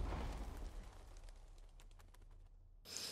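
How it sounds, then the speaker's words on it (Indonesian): A gunshot heard from outside in the film Polar: a loud, sharp blast opens and fades into a long reverberant tail, then a brief burst of noise cuts in at the very end. "Dan suara tembakan terdengar dari luar."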